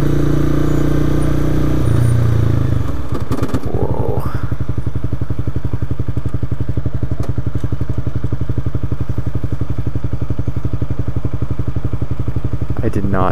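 A motorcycle engine turns erratic while the rider tries to stop, shifting from steady running into a loud, rapid, uneven pulsing clatter that persists, with bursts of noise near the end and a voice talking over it at times.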